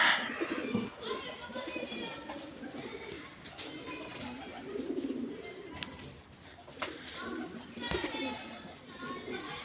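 Pet pigeons cooing in a loft, soft repeated coos scattered through the clip, with children's voices and other people talking nearby.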